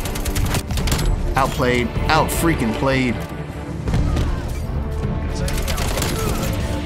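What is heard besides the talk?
AK-47 gunfire in the video game Call of Duty Black Ops Cold War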